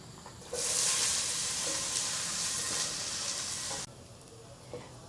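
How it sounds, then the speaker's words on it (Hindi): Onions sizzle loudly in hot oil while being lightly browned for egg curry, a bright, steady frying hiss that starts suddenly and then drops to a softer crackle near the end. "अब हम ऑयल गर्म होने के बाद सबसे पहले हम इसमें प्याज डाल के थोड़ा सा इनको लाइट ब्राउन करेंगे"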